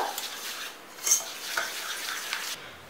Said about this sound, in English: And we are just going to mix this both together.